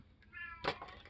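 A male cat meows once, a short close drawn-out cry, followed by brief rustling and handling noises nearby.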